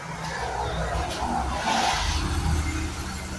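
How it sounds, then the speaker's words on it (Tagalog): Vehicles rush past on a highway outside a roadside shop, a continuous loud roar and tire hiss that swells as a car passes close by, with no talk. "Binibilang ko yung mga nagdadaang sasakyan."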